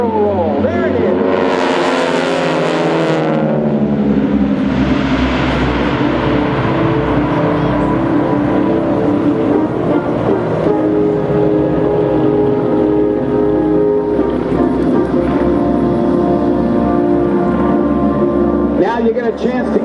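AeroShell Aerobatic Team propeller airplanes fly a diamond formation barrel roll at an airshow, a loud sustained engine drone with pitch sweeps as the planes pass and turn overhead.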